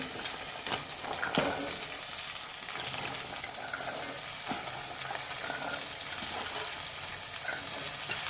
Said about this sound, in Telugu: చూడండి మంచిగా వేయిపోయింది అల్లం వెల్లుల్లి పేస్ట్